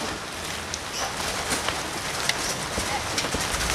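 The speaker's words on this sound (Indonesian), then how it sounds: "Ya ilah, mana hujan lagi." Steady rain falls close by, a dense broadband patter with scattered louder drops, continuous throughout.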